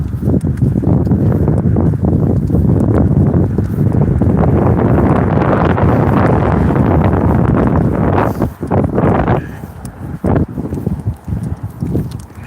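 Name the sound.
wind blowing along a road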